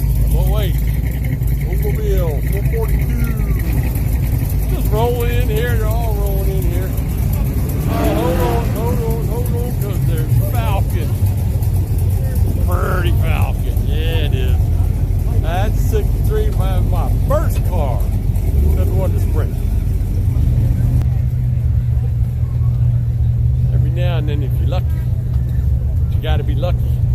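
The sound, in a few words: hot rod cars rolling in at a car show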